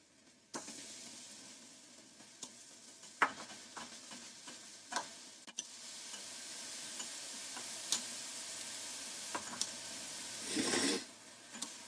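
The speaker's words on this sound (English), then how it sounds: "Is that the frying sounds?" Soft crackling sizzle with scattered sharp clicks and taps, steady and fairly quiet, swelling into a louder hiss near the end.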